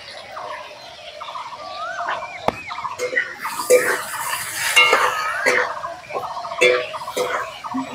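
Eggplant frying in hot oil, a busy crackling sizzle with intermittent clatter of a utensil against the pan, fairly close and rising and falling over time, with chirping birds in the background.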